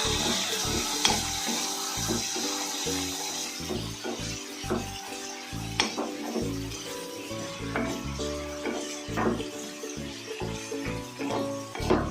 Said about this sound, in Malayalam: നമുക്ക് ഇതൊന്ന് വഴറ്റിയെടുക്കാം